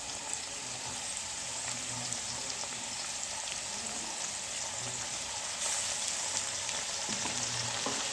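Chili and garlic paste fry with dried fish in a village-style pan, giving a faint, steady hiss with occasional low stirring bumps, a little louder in the last seconds.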